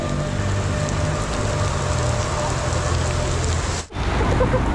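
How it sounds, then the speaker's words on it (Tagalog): Heavy rain pours down after a river crossing on a Tanay off-road route, as a dense, constant, loud hiss that cuts out for a moment near the end before resuming. "Grabe ang lakas ng ulan."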